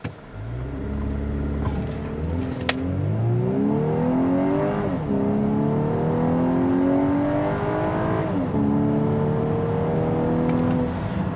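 A 2024 Volkswagen Atlas three-row SUV accelerates hard from 0 to 60 mph, heard from inside as an engine note that climbs steadily in pitch, drops at each gear shift, then climbs again.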